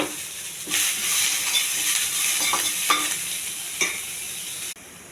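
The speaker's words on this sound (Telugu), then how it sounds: "వెల్లుల్లిపాయలు అండి, కోసి పెట్టుకున్న ఉల్లిపాయ. ఇవి కొద్ది దోరగా వేగించాలి." Garlic and chopped onion, with chana dal, fry in a pan and get stirred, giving a steady close sizzle broken by several scraping strokes of the spoon before the sizzle abruptly drops near the end.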